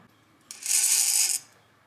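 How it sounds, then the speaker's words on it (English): Small beads rattle and clink as they slide onto fishing line, a brief bright clatter lasting about a second, close and fairly loud with no talking. "I'm going to put 4 beads on it right now"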